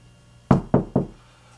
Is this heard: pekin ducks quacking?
no